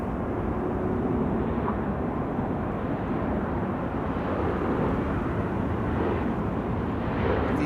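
Singapore Airlines A350 jet departing Amsterdam Schiphol, a steady broad roar of engines holding at constant loudness with no voices.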